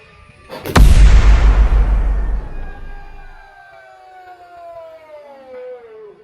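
A single loud bomb blast goes off close by, a sharp crack turning into a long rumbling roar that slowly dies away, followed by faint thin tones as it settles.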